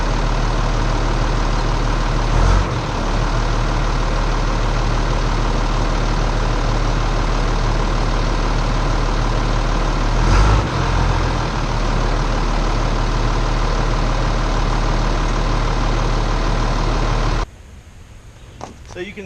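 A dump truck's engine idles steadily with a deep, loud low rumble while the bed slowly lowers, with two brief bumps along the way before the engine sound drops away near the end.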